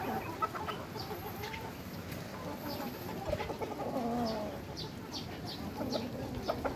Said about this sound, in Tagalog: Tapos ito yung isa natin inahin.